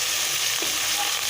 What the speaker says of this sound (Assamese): ইয়াত বিলাহীখিনি ভালদৰে লৰাই একদম ল' ফ্লেমত 10 পৰা 15 মিনিট ভাজি ল'ম